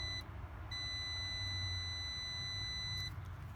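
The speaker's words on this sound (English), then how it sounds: "And as soon as you put this one in, it should beep." A multimeter on continuity emits a clean high-pitched tone while a sensor from a defrost control circuit is tested, one short beep, then a long steady beep lasting over two seconds, over a low background hum.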